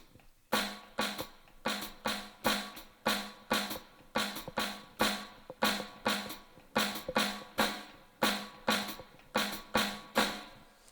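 A drum plays a five-note clave accent pattern in triplet feel, crisp sharp strokes in repeating groups with accented hits, steady and close, continuing for around a dozen cycles with no one talking.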